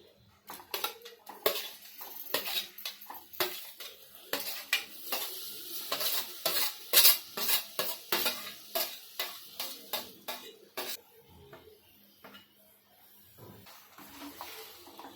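Cut lemons are stirred into melted jaggery in a kadhai with a spoon, a steady run of sticky scraping and metal clinks, repeated close up for the whole stretch with no talk.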